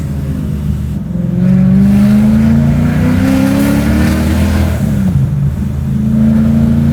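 A supercharged V8 swapped into a BMW E30 roars loudly on the highway, its engine note climbing steadily through hard acceleration with a brief dip and renewed surge, heard close and alone.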